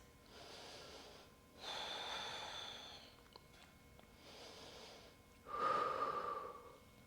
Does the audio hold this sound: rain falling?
no